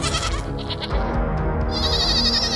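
A cartoon mother goat bleats in a loud, wavering, sustained call that rises toward the end, with music or cartoon background sounds underneath and no talking.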